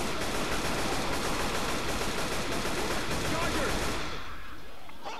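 Sustained, dense gunfire from the zombie shooter Left 4 Dead 2 hammers along loud and continuous for about four seconds, then cuts off abruptly into quiet.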